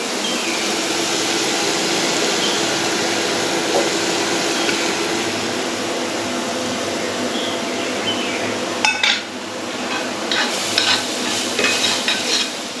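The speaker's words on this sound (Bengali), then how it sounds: "যেহেতু গ্রেটেড গাজর খুব বেশিক্ষণ নাড়াচাড়া করতে লাগবে না, অল্প নাড়াচাড়া করলেই হবে" Grated carrots are stirred in a sizzling frying pan, a steady close hiss throughout, with a few light utensil clinks and scrapes against the pan near the end.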